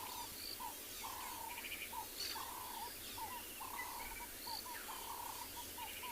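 Several birds call in the open bush at sunset on a southern African safari reserve, short chirps and whistles repeating at a steady distance over a constant insect-like hiss.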